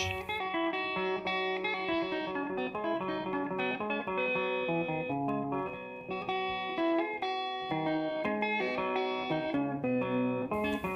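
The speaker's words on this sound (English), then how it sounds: "Through his use of his Umhlobo, which is introductory music flourish, which sounds something like this." Maskandi guitar playing an Umhlobo introductory flourish, a steady run of bright plucked melodic notes with sustained harmonics, continuous and fairly loud with no talking.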